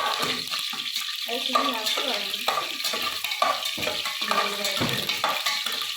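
Garlic and chillies frying in a pan, giving a steady sizzle with intermittent stirring and scraping clatter throughout, fairly close and continuous.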